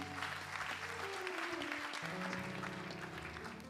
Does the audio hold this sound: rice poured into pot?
no